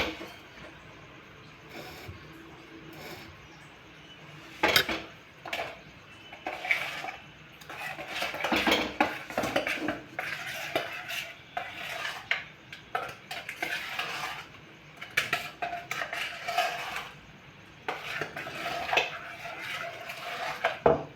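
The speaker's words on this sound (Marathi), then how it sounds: "आणि आता हे चमच्याने आपल्याला एकजीव करून घ्यायचं आहे पूर्ण." A spoon steadily stirs shrikhand in a bowl, made with sugar syrup, giving continuous close scraping and clinking against the bowl with irregular louder knocks and no talk.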